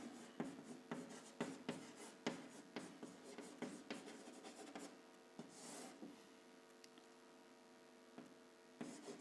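Chalk or marker strokes on a classroom board during a Class 9 maths lesson, a steady series of short scratchy taps and rubs close by, no talking.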